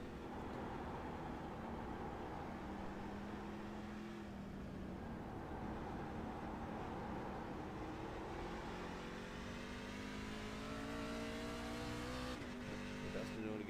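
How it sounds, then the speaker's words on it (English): A race truck in a NORA Truck Series 250 event runs down the straightaway, its engine droning with wavering, dipping RPMs and shifting pitch, heard through commentary. "I couldn't help but notice the bogging of the RPMs at times."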